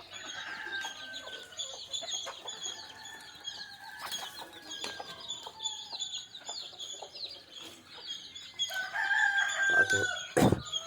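Country chickens cluck steadily nearby while a rooster crows, with brief wing-flapping, and a louder, closer burst of calls and flapping near the end.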